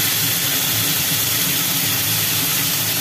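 Bombay duck (lote fish) coated in salt and turmeric is frying in hot oil. A loud, steady, dense sizzle carries on without a break, and no voices are heard.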